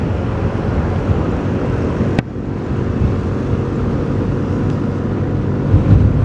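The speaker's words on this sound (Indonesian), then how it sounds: "Wah, Fortuner ngegas juga nih, Moy." Toyota Fortuner accelerating along a road near Bogor, heard as a steady broad engine and road roar mixed with wind buffeting on the microphone, loud and continuous with one sharp click partway through.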